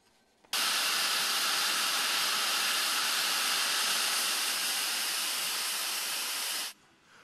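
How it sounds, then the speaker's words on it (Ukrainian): A late-1940s steam locomotive standing at the Cherkasy station platform releases a loud, continuous blast of hissing steam that starts abruptly, holds steady for about six seconds close by, then cuts off sharply. "Пара, дим та гучний сигнал. Такий гість на пероні Черкаського вокзалу здивував усіх."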